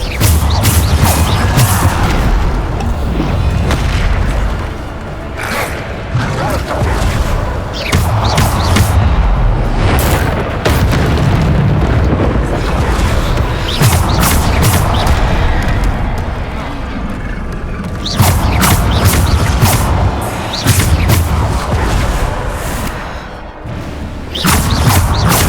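Bombarda explosion spells blasting in Hogwarts Legacy combat: repeated heavy booms and crashing impacts, loud and close, layered into a dense, continuous battle mix with voices shouting.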